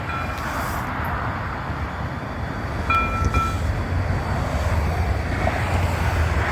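A tram pulls into the Blossom Hill stop in San Jose, California, giving a steady low rumble of rolling wheels with wind noise over it and a brief high squeal partway through as it draws near.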